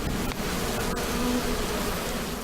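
A dense swarm of bees buzzing continuously, loud and close, a steady droning hum with faint clicks and no voices.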